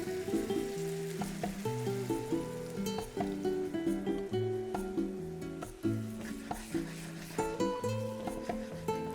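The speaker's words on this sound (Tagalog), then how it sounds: "And let's deglaze it with Doña Elena white wine." Bomba rice in a paella pan, deglazed with white wine, sizzles and fries steadily while being stirred, with a clear tonal layer of music running throughout.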